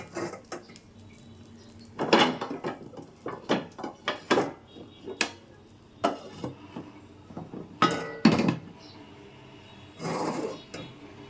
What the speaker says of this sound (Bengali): কড়াই চুলায় দিয়ে দিলাম।